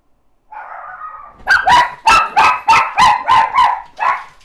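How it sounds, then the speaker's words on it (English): Several dogs bark in a quick run of about seven sharp, loud barks close by, after a brief whine or yip at the start, with no talking. "Dogs are barking."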